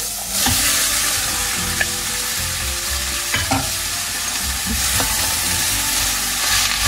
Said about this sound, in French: Vous remuez bien, de façon à bien mélanger les oignons avec les carottes.